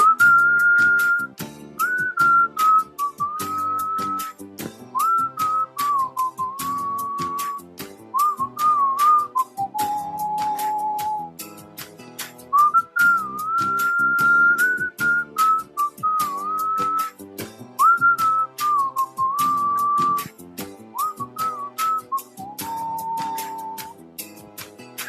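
Someone whistles a Tamil song, a clear sustained melody with steady phrasing that runs the whole time, close and loud.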